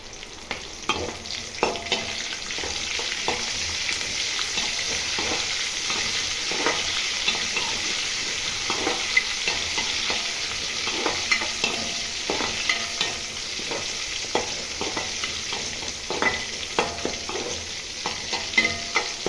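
Broad beans (chikkudukaya) frying in a pan give a steady, close sizzle lasting throughout, with frequent scraping stir strokes in an uneven rhythm and no voices.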